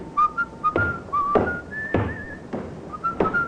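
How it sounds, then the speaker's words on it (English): A man whistles a short tune in an old radio drama, a few bright melodic phrases close up, while soft footsteps or taps thump beneath. "that fella there, whistling"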